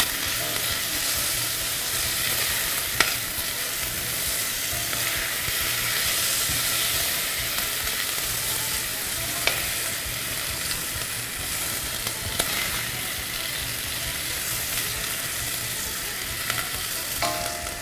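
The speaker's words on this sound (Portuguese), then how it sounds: "quando a sua cebola começar a ficar mais douradinha, já pode colocar o alho e o alho poró." Onion, garlic and leek sizzle steadily in a pan for a savory sauté, with a continuous hiss of frying broken by occasional stirring clicks and scrapes and no talk.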